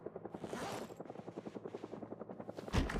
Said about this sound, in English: What you can hear right now is the helicopter event.